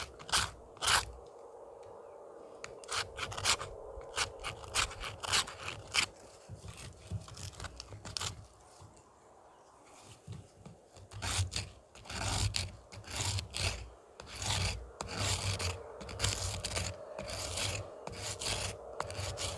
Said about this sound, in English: It's a Bondo file, and it's a lot more coarse,